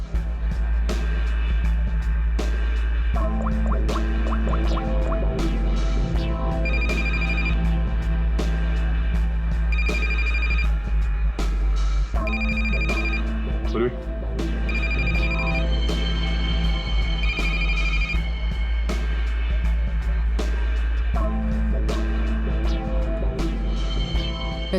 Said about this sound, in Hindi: इस रचना को फोन लगा।